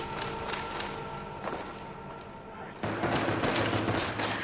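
Submachine gun fire in Call of Duty Black Ops Zombies on the Kino map, a steady dense rattle of rapid shots that grows louder and heavier partway through, with game noise mixed in.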